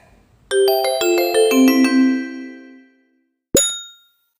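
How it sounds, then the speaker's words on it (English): A quick run of bright bell dings ringing out and fading, followed after a pause by a single sharp clang that rings briefly. Loud and close. "I plopped into my seat in time to hear the school bell ring."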